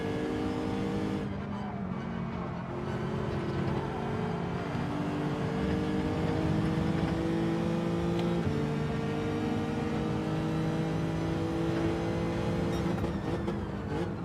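Lexus race car in Gran Turismo 7 drones steadily at high revs throughout, with a sustained engine tone that shifts pitch around gear changes and a constant loud, close presence.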